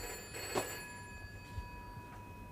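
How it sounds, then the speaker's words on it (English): An old telephone bell rings indoors, a faint steady trill with no voices over it. "Phone."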